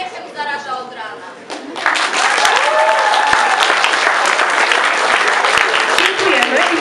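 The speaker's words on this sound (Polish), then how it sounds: "Oklaski gorące dla tego pana, co swym uśmiechem zaraża od rana." Warm, sustained applause from a school audience at a patron's day celebration bursts in after a brief spoken intro and fills the rest of the stretch loudly and evenly.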